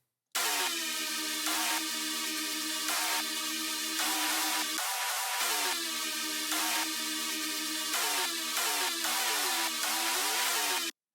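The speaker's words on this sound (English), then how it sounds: "And really all that's after is to just add some supporting effects" Supporting effects from an electronic dance track, a bright, sustained synthetic layer that swells and pulses in a steady rhythm, briefly dropping out midway, heard alone and fairly soft.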